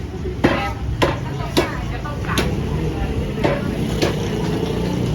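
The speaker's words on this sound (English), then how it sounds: "Another butcher over here, chopping up some of the pork." Sharp cleaver chops as a butcher cuts pork strike at irregular intervals, roughly seven hard knocks, over a noisy Bangkok morning market background with voices talking throughout.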